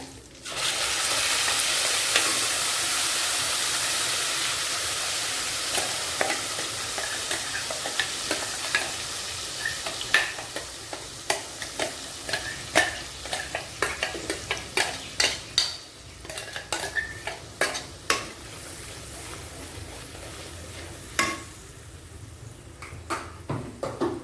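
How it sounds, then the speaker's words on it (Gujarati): Spice paste gravy with cumin and asafoetida sautéing in hot oil in a pan for palak bateka, a steady sizzle broken by frequent clinks and scrapes of a spoon stirring against the metal. "આપણી ગ્રેવીને 5 મિનિટ સુધી પ્રોપર એને સંતળાવા દેવાની છે"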